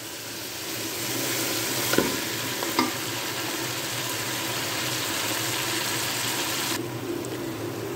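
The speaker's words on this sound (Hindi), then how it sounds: "इसको थोड़ा और भूनूंगी" Steady sizzling and frying hiss of beef and masala browning in a pot for nihari, with occasional stirring scrapes and clinks, continuous throughout, no speech.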